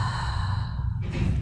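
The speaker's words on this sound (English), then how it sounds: "Exhale out through the mouth." One breath pushed out through the mouth during a full-body stretching routine, a short breathy exhale near the end over a constant low hum.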